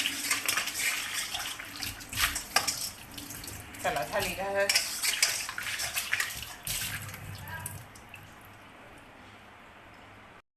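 An iron kadhai is rinsed clean under splashing running water, with metallic clanks and scrapes from handling the pan. A voice briefly speaks, and the washing fades to a quieter trickle near the end.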